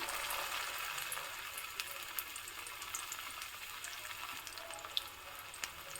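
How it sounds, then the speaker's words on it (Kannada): Pakoda batter balls fry in hot oil with a soft, steady sizzle and faint scattered pops, fairly quiet and even throughout. "ನೋಡಿ ಎಣ್ಣೆ ಕಾದಿದೆ ಚೆನ್ನಾಗಿ ಈಗ ಉಂಡೆಗಳನ್ನು ಮಾಡಿಬಿಟ್ಟು ಬಿಡ್ತಾ ಇದ್ದೀನಿ"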